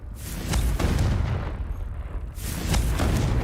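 A Confringo fire spell blasts in Hogwarts Legacy, with rumbling, booming explosions that swell, dip briefly, then surge again, loud and close with no talk.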